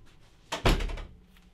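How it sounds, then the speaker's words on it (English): A door swinging shut with a single solid thud, a brief rushing sweep followed by a heavy close, heard nearby in an indoor room. "Excuse me, close the door."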